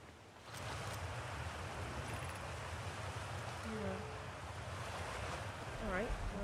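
Rushing water cascading down a waterfall in the space exploration game Outer Wilds: a steady, dense roar that holds unbroken throughout, with a few faint chiming tones drifting over it near the end.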